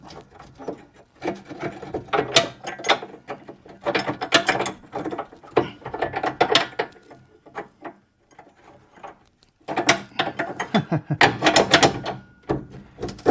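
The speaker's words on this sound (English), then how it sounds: "now I can't get the wrench out of this one" Ratchet wrench clicking in bursts while working under a 1984 Chevrolet Camaro Z28 during a gas tank swap, close, with short pauses and metallic clatter between runs.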